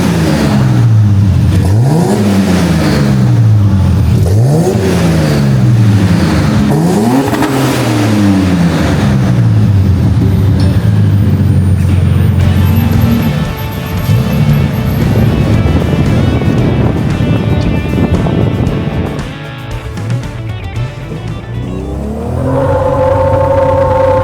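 A Nissan GQ Patrol with a custom 89mm Powerflow exhaust revs loudly nearby in several rising and falling pulls, then drops to a rough, steady rumble with wind noise.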